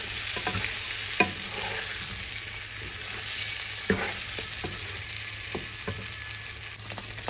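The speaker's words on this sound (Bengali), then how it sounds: "বেগুন সুন্দর মতো ভেজে নিতে হবে" Eggplant coated in turmeric and chilli fries in a pan, giving a steady moderate sizzle punctuated by occasional sharp clicks and taps of a utensil against the pan.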